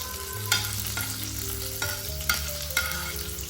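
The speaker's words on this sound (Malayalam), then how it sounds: "കൊച്ചുള്ളി ഇട്ടു പിന്നെ ഡ്രൈ ചില്ലി ഇട്ടു ഓക്കെ അപ്പോൾ അതൊന്ന് വഴറ്റാം" Shallots and dry chillies sautéing in hot oil, a steady low sizzle with several sharp scrapes and stirs of a spoon against the pan, close and alone.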